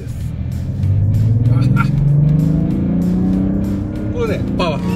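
Mazda CX-60 SUV with a 3.3-litre six-cylinder turbo diesel, driving with a steady low engine drone that rises in pitch as it accelerates, heard from inside the cabin with talk over it.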